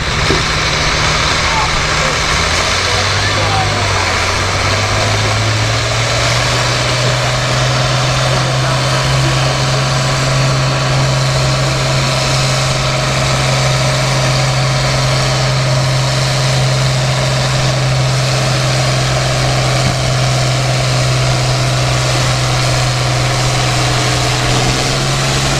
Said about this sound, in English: Dan, you're pulling Dave Swartz tractor